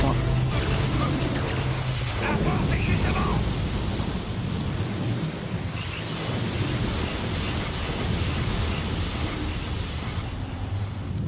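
A raging thunderstorm in Gears of War 4 roars as a loud, continuous wash of wind and rain with low rumbles beneath, sustained throughout with a voice speaking over it.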